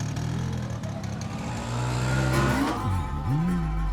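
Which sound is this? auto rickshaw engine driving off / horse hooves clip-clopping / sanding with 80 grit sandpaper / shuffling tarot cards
auto rickshaw engine driving off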